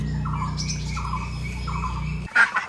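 Ducks and ducklings call continuously in steady, repeated quacks and peeps, close by, before a brief sharper squawk near the end.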